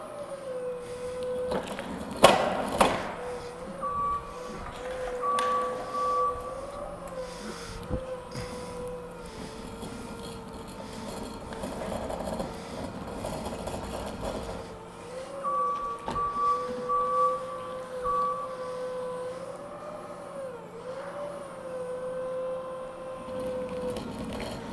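A ride-on floor scraper fitted with a dual lift runs steadily with a tonal mechanical whine and engine hum, joined by scraping and clunks as it works through flooring material.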